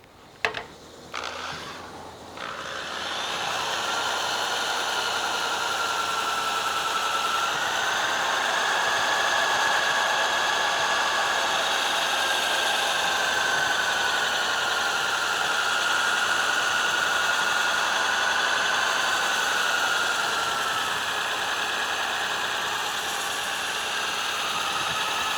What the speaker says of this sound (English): So that's sanding the exterior of the bowl here.